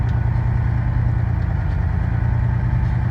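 A truck engine revved to about 1,200 RPM during an air brake governor test gives a loud, steady low rumble close by, holding even throughout with no talk.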